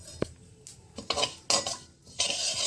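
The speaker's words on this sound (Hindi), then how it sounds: "अब हम अपने तिल को ड्राई रोस्ट कर लेते हैं फटाफट से, एकदम लो फ्लेम पे" Sesame seeds dry roasting in a pan on a low flame, stirred with a utensil. Bursts of rattling scrape and soft sizzle come every half second or so, between short quieter gaps, with no talking.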